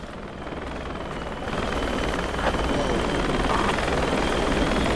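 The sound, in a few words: helicopter in video game Project Reality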